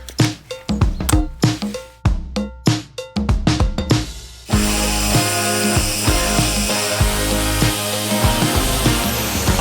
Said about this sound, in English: So I've got the handy little angle grinder, and before we can bend these, we need to get all of this cut down to size.